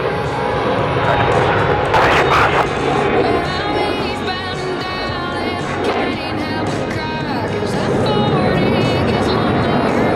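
At the Brunswick, Maine airshow, Blue Angels jets perform the barrel roll break, a broad, rushing roar with bursts of noise that sweep past. Muffled crowd or announcer voices run underneath.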